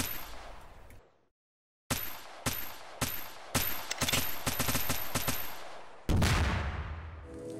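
Rapid bursts of gunfire from soldiers in the VR shooter Iron Defense Demo, loud and close: a lone volley, a brief silence, then repeated automatic bursts building into a sustained barrage.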